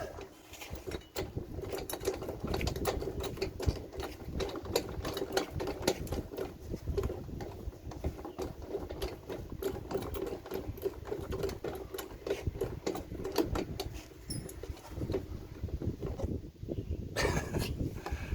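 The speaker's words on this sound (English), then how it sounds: "Using nylon locking washer or lock nuts, and now just tighten it down." Lock nuts with nylon locking washers are tightened down on an RV sewer hose storage mount, giving a dense, continuous run of rapid mechanical clicking and rattling at close range for the whole stretch.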